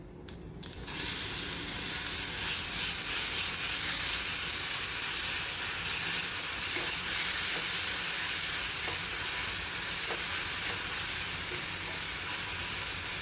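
Mustard seeds and asafoetida sizzle and crackle in hot oil in a home kitchen, a steady, dense frying hiss that holds close and even throughout.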